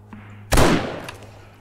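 A single sharp gunshot from 7 Days To Die (Alpha 19) cracks loudly and close, then fades in a short decaying tail over quiet game ambience.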